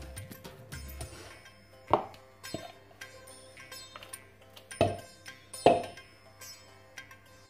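Onions are chopped for an Algerian home-cooked dish: a handful of sparse, sharp knife strikes on a board with long pauses between them, over a low steady background hum.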